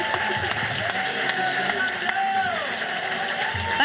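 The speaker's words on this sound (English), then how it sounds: "Let's have a round of applause for our MPs!" A crowd at a Labour political rally claps steadily in a loud, dense wash of applause, with some voices mixed in.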